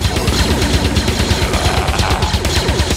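A Star Wars E-11 blaster fires on full automatic, a loud, rapid, unbroken stream of punchy shots lasting about three seconds with no pauses.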